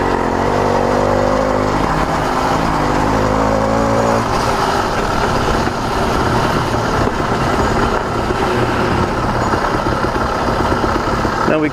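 A CDH110 110cc (85cc) motorized bicycle engine on its first break-in ride along a sidewalk, a loud, constant buzzing drone close by with rough wind noise mixed in.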